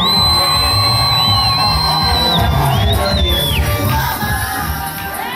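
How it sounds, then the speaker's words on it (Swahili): A women's festival crowd at a TAG Maranatha church in Geita, Nyarusu, fills the space with loud continuous applause and high trilling ululation, with cheers rising over the steady clapping throughout. "Makofi na vigelegele."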